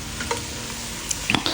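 Crushed masala and tomatoes fry in a pan with a soft, steady sizzle, broken by a few quick scraping stirs near the end.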